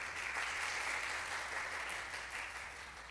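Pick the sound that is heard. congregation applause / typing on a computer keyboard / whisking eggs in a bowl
congregation applause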